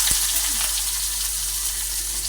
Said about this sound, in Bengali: তেলটা আমার গরম হয়ে গেছে, এবারে দিয়ে দেবো পেঁয়াজ কুচি